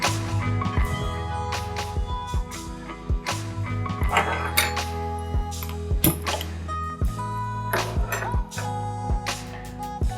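A spoon stirs millet rice payasam with milk in a cooking pot, giving repeated light clinks and scrapes against the metal in an uneven rhythm over a steady humming background.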